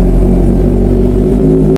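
A Kawasaki Z900 motorcycle with a loud aftermarket exhaust can idles and revs up close, a deep heavy rumble held steady at high volume before cutting off sharply at the end, with no voices.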